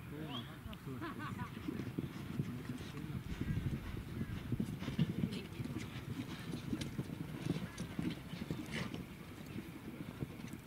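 Horses' hooves clip-clop on open ground during kok-boru team training, a busy uneven patter running throughout beneath someone talking and outdoor crowd noise.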